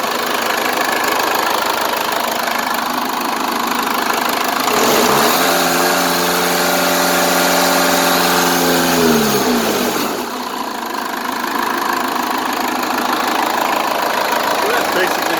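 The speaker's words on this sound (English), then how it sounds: "that's basically the engine right there. It's kind of 4BT Cummins 1-cylinder injector pump type." A Cummins 4BT diesel with a single injector pump, fitted in a Ford F150 in place of the V8, idles with a loud, steady clatter, rising briefly in the middle as the engine note swells, then settles back.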